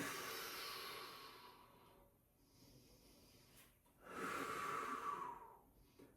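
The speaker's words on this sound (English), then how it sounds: "Feel the breath come in through the nose. And I'm breathing out through my mouth on this one." During a yoga flow, a slow, close breath cycle plays out: a long airy inhale through the nose, a brief pause, then a stronger, breathier exhale through the mouth, soft but clear with no talk.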